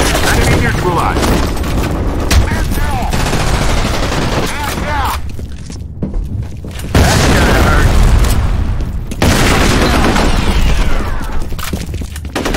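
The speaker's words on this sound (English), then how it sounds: "Grenade out." Dense gunfire and a booming grenade blast in the online shooter F.E.A.R. Combat, rapid loud bursts and heavy explosions filling the whole stretch with a brief lull in the middle.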